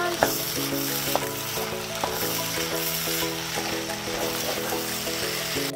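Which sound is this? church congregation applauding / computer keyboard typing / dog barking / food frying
food frying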